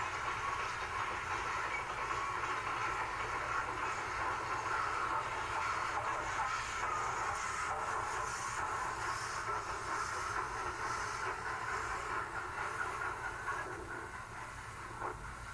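A GSMR freight train of 17 cars with two diesels and two cabooses rolls past near Dillsborough as a continuous rumble and hiss of wheels and cars, steady throughout and easing slightly at the end.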